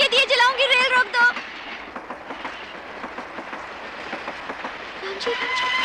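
A train running on rails with steady clickety-clack and rolling wagon noise, as a voice talks over the start and again near the end.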